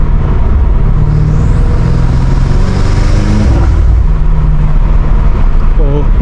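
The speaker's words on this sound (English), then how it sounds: "the intakes are going crazy" Loud, continuous engine and intake roar from a catless F90 BMW M5 Competition on a backroad drive, a dense droning rumble that swells slightly mid-clip, with excited voices over it.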